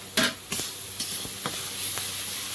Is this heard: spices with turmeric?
yes